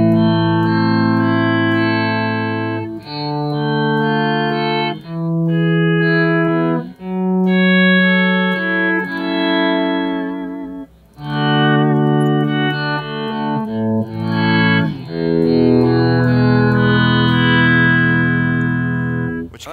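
An Electro-Harmonix Mono Synth pedal in poly mode plays sustained, buzzy synth tones that step through arpeggiated chord notes, loud and continuous, with effects audible.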